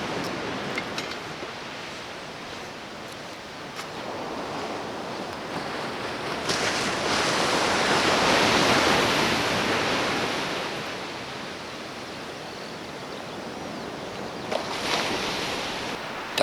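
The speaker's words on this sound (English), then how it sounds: "Some big waves out here, Trebs." Big ocean waves break on a shore near Gisborne, New Zealand, a broad roaring wash that swells to a peak midway and then eases, with gusts of wind across the microphone.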